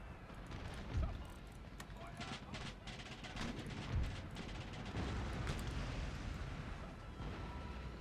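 Battle gunfire and artillery in the game Empire: Total War, with heavy booming blasts and scattered cracking shots over a dense, continuous rumble of combat.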